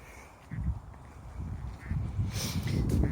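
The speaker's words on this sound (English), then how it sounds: "Well, there's some ducks. Let's see some ducks." Ducks quack in short bursts at moderate distance, with a few honking calls among them against an outdoor background beside a canal.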